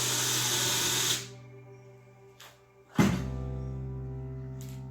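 A power drill bores a pilot hole for a wooden drawer batten: a loud steady whir lasting about a second, then quiet, then a sharp second burst that fades into a lingering hum.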